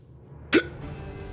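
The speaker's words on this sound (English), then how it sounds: "Why random hiccup?" A single sharp hiccup, close and clear, breaks the quiet background during a Thronebreaker: The Witcher Tales game playthrough.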